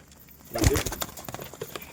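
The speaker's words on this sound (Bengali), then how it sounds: "পায়রাগুলো কিন্তু একদম পুরো পাগল হয়ে গেছে খাওয়ার জন্য" Pigeons coo close by in a brief burst, with soft fluttering and light pecking sounds.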